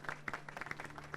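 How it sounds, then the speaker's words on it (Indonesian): A church congregation applauds together during a sermon, a steady burst of many hands clapping that fills the hall for about a second. "Berikan tepuk tangan bagi Tuhan kita"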